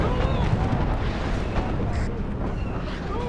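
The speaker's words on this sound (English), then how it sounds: "very cool to see that many mortars coming down" Mortar shells fall and burst in a WARNO strategy game running a Star Wars mod, a dense, continuous rumbling barrage with overlapping muffled blasts and no single clear impact standing out.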